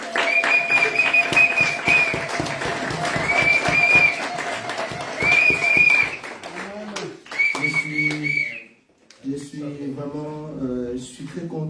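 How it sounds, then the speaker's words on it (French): Church congregation applauds and cheers loudly throughout a French-language service, with rhythmic clapping and a sustained tone over it, then talk continues after a brief lull. "Est-ce que nous pouvons le manifester par des acclamations, des cris de joie?"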